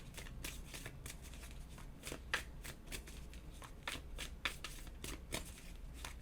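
A deck of tarot cards is handled and shuffled up close, quiet repeated flicking and riffling bursts in an irregular rhythm, with no talk.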